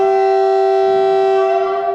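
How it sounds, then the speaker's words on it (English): A loud, steady whistle with a pure sustained tone, blown to call people before starting a Winton petrol engine, sounding alone for about two seconds. "Now, this will be a handful that we can blow the whistle before we start the Winton engine"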